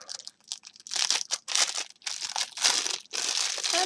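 Plastic packaging around a mini hairbrush crinkles and crackles close up in repeated short bursts as it is pulled open, loud and bright with brief pauses between handfuls.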